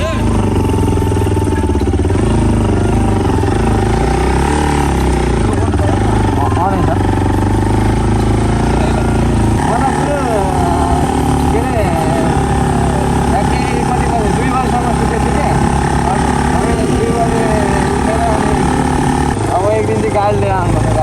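A motorcycle idles nearby on a bazaar street, giving a steady, loud engine drone throughout with a slight shift in tone partway, while someone talks over it.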